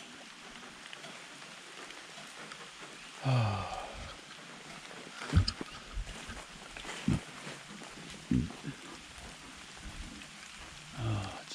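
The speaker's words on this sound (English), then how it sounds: "Still raining." Steady rain patters on surfaces outdoors during a thunderstorm, with a soft continuous hiss broken by scattered louder drips and knocks, and a brief spoken exclamation over it.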